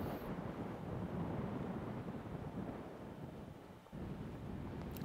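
Strong wind blowing across the summit of Foel Goch, a loud continuous rumbling buffet against the microphone that eases slightly and briefly drops before surging back.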